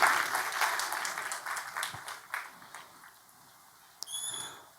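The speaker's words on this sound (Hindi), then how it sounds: "आइए तालियों के साथ हम स्वागत करें इनका।" A church congregation applauds to welcome first-time visitors at a Sunday service, steady clapping that thins and fades out over a few seconds. A brief squeaky sound follows at the end.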